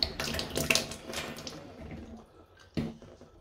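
Water draining out of a tap during a dripping-tap repair, a hissing splashy run that fades off, then a short splash near the end, with no talking.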